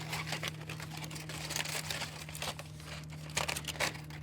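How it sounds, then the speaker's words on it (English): Aluminum foil crinkling and crumpling as it is pulled off a turkey cooked in a Big Easy oil-less fryer, close and fairly quiet, with irregular rustling bursts over a steady low hum. "Get this foil off."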